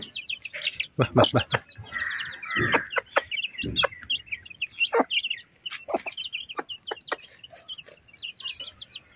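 Native country hens cluck and chirp in quick, scattered bursts as they peck at rice and corn scattered for them. A person close by calls to them in a short repeated call.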